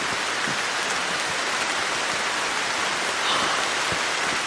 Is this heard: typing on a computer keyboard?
no